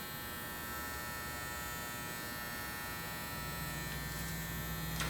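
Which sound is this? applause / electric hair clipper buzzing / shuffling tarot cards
electric hair clipper buzzing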